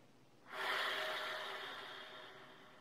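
A relaxed, deep breath drawn in like a yawn during a trumpet warm-up: one close, airy breathing sound that begins after a short quiet start, swells, then slowly tapers off with no voice.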